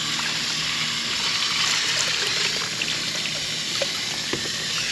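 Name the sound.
water from a hose washing out a bucket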